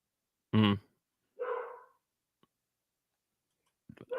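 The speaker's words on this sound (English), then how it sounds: "my dogs are saying that somebody's here or something" Dogs barking indoors, a loud close bark followed by a softer second bark, a pause, then a few faint clicks and short yips near the end.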